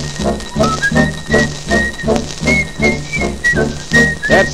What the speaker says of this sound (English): That sounds like Winston Minone whistling